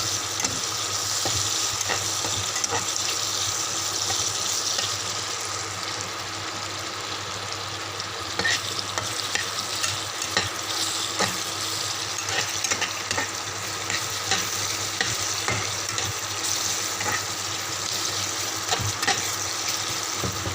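Fish curry masala ingredients frying in a pan for an Andhra-style Roopchand fish curry, a loud continuous sizzle with frequent scraping and mashing strokes, no voices.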